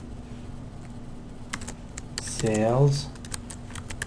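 Keystrokes from typing on a computer keyboard during spreadsheet data entry, a few scattered clicks close by with a brief spoken word over them.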